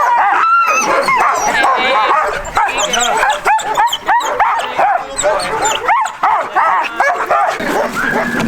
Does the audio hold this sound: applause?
no